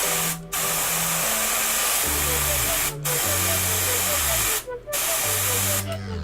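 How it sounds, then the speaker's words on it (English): Spray paint hisses onto a brick wall in loud, steady bursts with brief pauses between passes, the nozzle held perpendicular to the grain. A hum runs underneath. "The general idea is we're spraying perpendicular to the grain."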